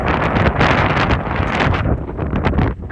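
Strong gusting wind buffets the microphone outdoors during a radio-controlled truck speed run, a loud, rough rushing roar that swells and eases without pause.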